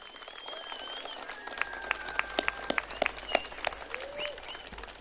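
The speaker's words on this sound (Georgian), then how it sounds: "მინდა ჩვენი გმირების, ჩვენი ბრძოლის ველზე დაღუპული ადამიანების სულებს ტაშით მივეგებოთ ეხლა" A crowd in Gdańsk applauds to honour fallen heroes killed on the battlefield, sharp dense clapping that swells and peaks, with whistles and calls rising above the sustained ovation.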